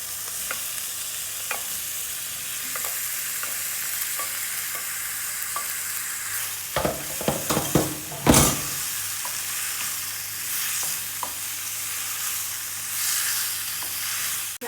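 Bitter gourd (karela) drops into hot oil in a pan for a Gujarati stuffed karela shaak, bursting into a loud crackling sizzle mid-clip amid scattered clinks of a spoon, then a steady frying hiss.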